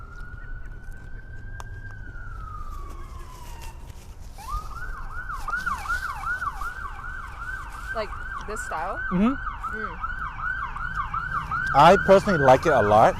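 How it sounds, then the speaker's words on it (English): Emergency vehicle sirens pass outside, a wailing tone that rises and falls, then switches to a rapid yelp that grows louder toward the end, while a person talks over them indoors. "Sorry for the sirens."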